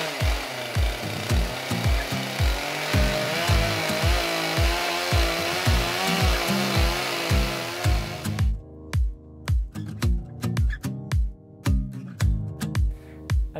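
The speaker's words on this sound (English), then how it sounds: "So using chainsaw mill, there's a nice contrast to see how it used to be done and how we can do it now as well." A chainsaw mill rips through timber at a heritage water-powered sawmill in Simonsbath: a loud, close engine drone with a steady pulsing rhythm, then a thinner, choppier run of bursts near the end.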